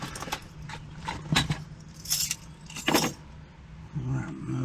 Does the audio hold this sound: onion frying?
no